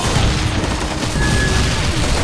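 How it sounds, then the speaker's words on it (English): Rapid sustained automatic gunfire from the blind fire skill in the Hyper Universe video game, a dense continuous rattle of shots filling the whole stretch at steady loudness, with no talk over it. "I used my blind fire"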